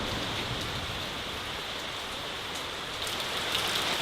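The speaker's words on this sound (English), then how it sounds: "We are currently rained off work and I think you can see why." Heavy rain pours down steadily during a storm at a building site, a dense and constant hiss with no voices.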